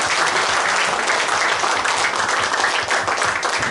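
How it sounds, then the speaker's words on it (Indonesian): A church congregation at a Pentecostal Sunday service breaks into dense, sustained applause, many hands clapping at once in a steady, loud wash with no pause. "kita tepuk tangan"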